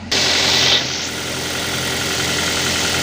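A Toyota Avanza's engine starts cold and settles into a steady idle, with a brief higher whirring burst at the start before an even, close mechanical hum with light ticking; no one speaks.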